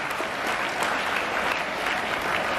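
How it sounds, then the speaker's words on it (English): Steady round of applause from an audience at a school English Week event, dense, continuous clapping filling the whole moment at an even level. "Please give her a very big round of applause."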